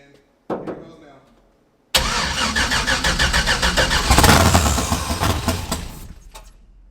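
A 1968 Pontiac Firebird with new American Autowire wiring and Terminator X injection cranks briefly, pauses, then cranks again and fires into a loud, close V8 rumble that surges with light revs before settling toward idle.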